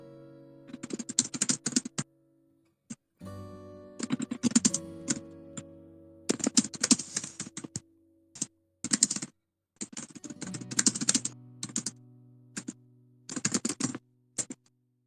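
Bursts of rapid keyboard typing, clattering keystrokes in quick runs separated by short pauses, close and fairly loud with no talking.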